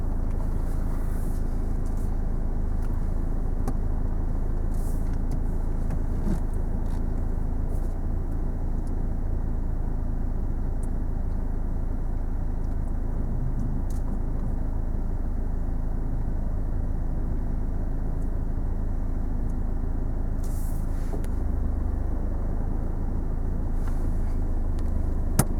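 A car moves along a road during a driving lesson, giving a steady, moderate hum of engine and tyre noise that runs without a break under faint cabin sounds, with no one speaking.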